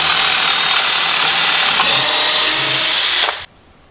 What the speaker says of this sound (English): drill a 1/4 inch hole with a twist bit all the way